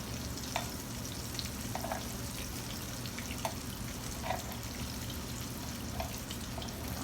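Vegan chicken pieces fry in a hot pan, giving a steady, close crackling sizzle throughout, broken by occasional sharp pops and light clicks.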